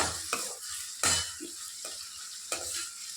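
Onions fry in a pan with dry fish, a steady sizzle broken by a few scraping stirs of a spoon at irregular intervals, heard close with no speech.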